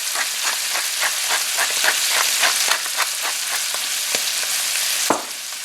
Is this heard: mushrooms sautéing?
yes